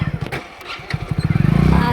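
A tractor engine chugs nearby in low, rough pulses that fade briefly, then return and quicken into a steady, faster throb toward the end.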